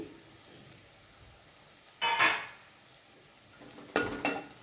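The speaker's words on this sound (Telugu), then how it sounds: "ఇప్పుడు కరివేపాకు వేసుకోవాలి" Curry leaves drop into a hot pan of oil and crackle in two short, sharp bursts, about two seconds apart, over a quiet, low background hiss.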